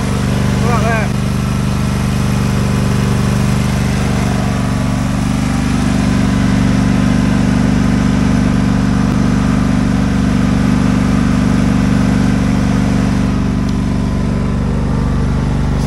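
Lawn mower engine running steadily and loudly throughout, close by, a continuous droning hum with no pauses, mowing grass at a campsite where tent pegs and hook-up cables lie around.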